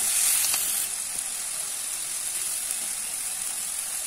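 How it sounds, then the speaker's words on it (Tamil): Prawns frying in a pan with curry leaves and salt give a steady, close sizzle with a bright hissing wash that holds evenly throughout, with no voices. "இதற்கு தேவையான அளவுக்கு கருவேப்பிலையும் அதனுடன் உப்பும் இட்டு வதங்கி அதனுடன் நீங்கள் சுத்தம் பண்ணி வைத்திருக்கும் இறாலையும் சேர்த்துக் கொள்ளுங்கள்."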